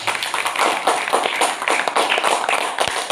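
People at a Sunday church service clap to welcome visitors, a dense, fairly loud patter of hands that runs steadily from start to finish without talk over it.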